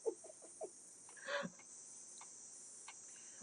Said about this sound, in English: The cicadas stop, and then the crickets start.